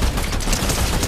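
Pistol gunshots in the video game Fortnite crack out in a rapid, dense burst that fills the whole moment at steady loudness, with no talking over them.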